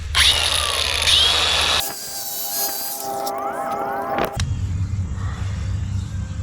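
A power tool grinds through spark plugs from a Yamaha Banshee, loud and close, with whining, shifting passes that stop and restart in several distinct sections.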